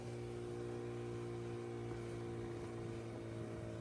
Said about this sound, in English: We fire up our dinghy and set out.